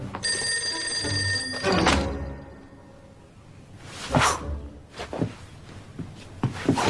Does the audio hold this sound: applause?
no